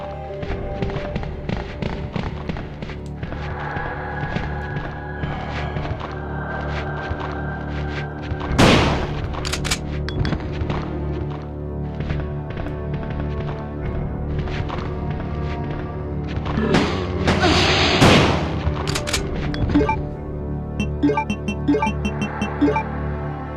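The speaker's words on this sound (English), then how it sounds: "So we're going to waste out what's in the clip of the shotgun." Shotgun fire in the video game Resident Evil 2, with a heavy blast near the middle and a louder burst of shots later, over steady in-game background sound.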